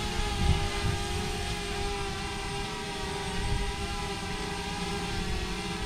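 A DJI Mavic Mini drone hovering at roughly half throttle in wind gives off a steady, high whine with a constant tonal buzz that carries on evenly throughout, with no talk over it.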